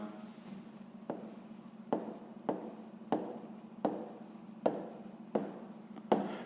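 Pen or pencil writing out a sixth-grade maths solution by hand on paper, a steady scratching with regular stroke bursts about every second, close and fairly quiet, with no talking.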